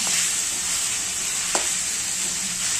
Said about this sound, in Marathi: आता गाजर टाकायचं, हे गाजर पण याच्यामध्ये चांगलं फ्राय होऊन द्यायचं